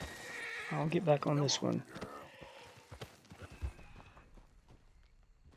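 A Missouri Fox Trotter horse in a video game gives a loud, shaky whinny, followed by scattered hoof clops that fade away, while someone talks over it.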